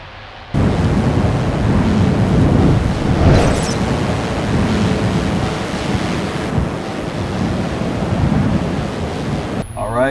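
Strong wind roaring over the microphone during a drone delivery flight, a loud continuous rushing that starts abruptly and holds steady throughout.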